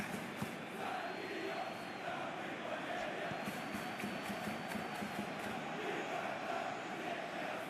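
A large, expectant stadium crowd before a World Cup match involving Indonesia keeps up a steady, distant roar and murmur throughout, with no clear individual voices standing out.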